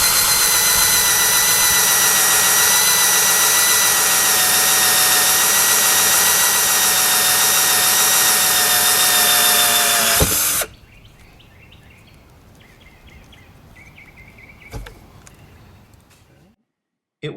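A loud, steady power-drill whine runs for about ten seconds as it bores through plastic on a Jeep Wrangler during a rear camera install, then cuts off abruptly, leaving quiet background with faint scattered clicks.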